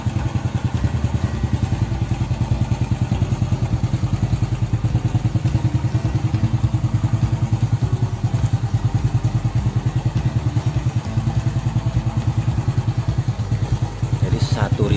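A Honda EX5 Dream motorcycle idles close by, its small engine putting out a steady, rapid putter with light mechanical clatter that runs evenly throughout.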